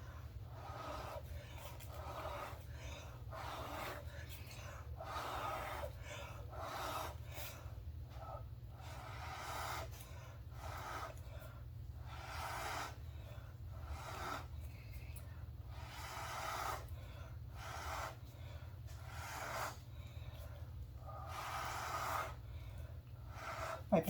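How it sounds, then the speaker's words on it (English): Someone blows repeatedly onto wet paint to spread a bloom, producing soft, breathy puffs in a loose rhythm. The puffs are close but faint over a low background hum, with a few pauses between breaths. "Pull your head back as you blow."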